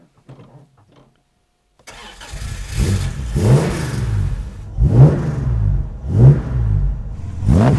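After a brief quiet pause, a classic Jaguar E-Type engine cranks and catches, then revs up in several loud surging bursts before settling into a rumble.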